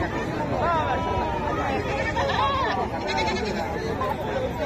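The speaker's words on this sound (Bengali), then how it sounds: "কত সুন্দর সুন্দর ছাগল।" Local breed goats bleat repeatedly at a crowded Eid livestock market, with wavering cries rising over a constant murmur of nearby talk and crowd chatter.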